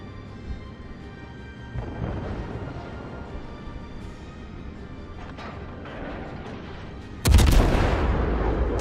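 In World of Warships, naval guns fire an armor-piercing salvo with a sudden heavy boom near the end, after a stretch of rumbling distant gunfire and battle noise.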